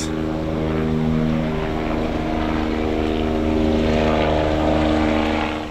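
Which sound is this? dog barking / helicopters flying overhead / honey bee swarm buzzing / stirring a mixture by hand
helicopters flying overhead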